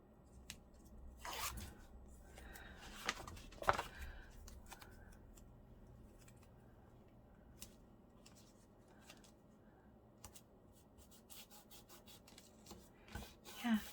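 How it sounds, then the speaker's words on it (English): Fabric washi tape is pulled, torn and rubbed down along a junk mail journal cover, producing soft close rips, scrapes and brushing rubs at a quiet level with scattered small taps. "let's run some of this washi tape down there"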